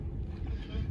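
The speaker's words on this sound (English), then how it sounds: "And the great botter passing by." Traditional Dutch botter sailing boat passing near Volendam, heard as a steady low wash of water and hull rumble mixed with wind buffeting the microphone, continuous and fairly close.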